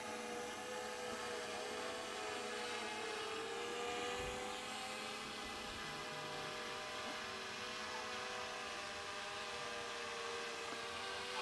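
A small camera drone hovers over a homestead yard with a greenhouse and chickens, giving a continuous, even whine with steady tonal harmonics and no pauses or speech.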